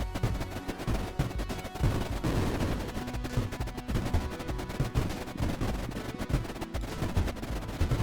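Ships being bombarded and blowing up in the strategy game Creeper World IXE, a continuous loud barrage of rumbling blasts and crackling gunfire-like impacts with no voices.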